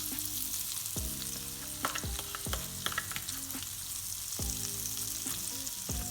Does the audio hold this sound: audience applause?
no